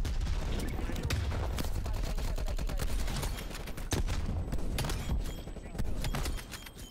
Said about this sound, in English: Using the regular firing with the sniper, and it's good.